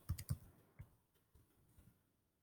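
A handful of keystrokes on a computer keyboard while typing a website name into a browser, quick faint clicks bunched at the start, then trailing off into quieter scattered taps.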